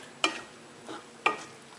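A spoon stirs aubergine in coconut-yogurt sauce in a pan with the flame off. Three separate scraping strokes come at a slow, uneven pace, with quiet gaps between them and no talk.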